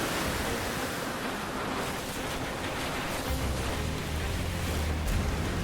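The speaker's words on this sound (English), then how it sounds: "You can hear the wind a little bit, it's howling." Broad rushing wind from Hurricane Katrina roars steadily outdoors, a constant noisy whoosh with a deeper low rumble building partway through.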